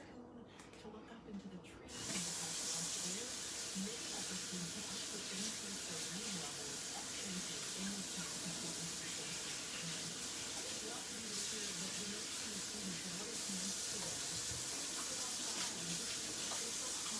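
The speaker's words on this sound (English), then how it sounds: "try to get as much as off my finger as I can, and then give my hand a good wash" Running water from a kitchen tap hisses steadily as hands are washed under it, continuous and fairly close after a quiet start, with faint low murmurs underneath.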